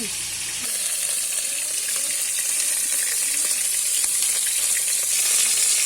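Pieces of desi chicken fry in oil in a pan over a clay stove, giving a steady, close, dense sizzle that runs unbroken throughout with no voices.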